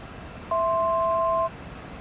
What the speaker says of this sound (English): That's a notification at top of descent.